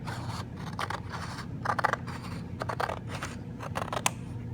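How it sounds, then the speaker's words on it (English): Scissors snip along a marked line while cutting parts for an air skimmer build, a close series of short crisp cuts with scraping strokes between them in an uneven rhythm, with no talk. "I'm going to do my best to cut across there as accurately as I can"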